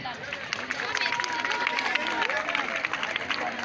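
Students at a school welcome ceremony for new sixth-year and seconde pupils burst into sustained, dense applause, a steady wash of many hands clapping with crowd murmur mixed in throughout.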